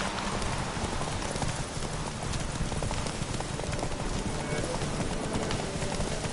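A horse gallops through the rain in The Witcher 3, hooves clip-clopping in a steady driving rhythm under a constant hiss of rainfall.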